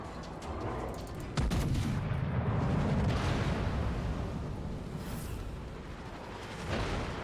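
Heavy battleship guns firing in the naval combat game World of Warships: deep, booming artillery blasts with rumbling low end, a loud burst near the start and another swell toward the end, no talk over it.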